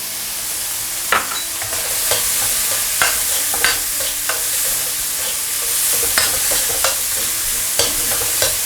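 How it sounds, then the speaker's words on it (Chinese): Meat stir-frying in a hot wok with minced garlic, ginger and small chili peppers: steady close sizzle with repeated sharp scraping strokes of the spatula every second or so, no voices. "把这个肉炒到吐油之后呢，我们沿着锅边烹少许的花椒酒"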